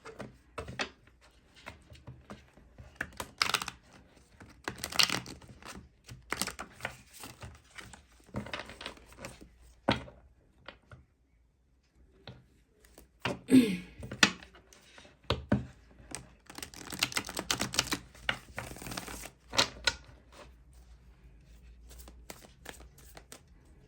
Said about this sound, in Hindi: इस डेक से भी हम निकालेंगे 4 कार्ड सिमिलरली